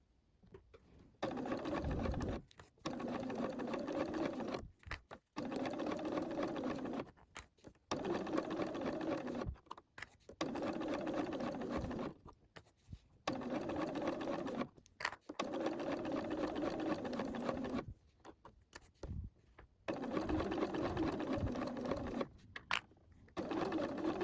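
A sewing machine runs in repeated bursts of rapid stitching with short pauses between, topstitching with a lengthened stitch on a fabric top, close and clear with no talking.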